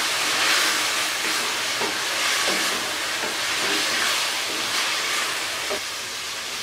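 Mutton karahi masala roasts in a pan, giving a steady, close sizzling hiss that runs throughout with faint stirring clinks now and then.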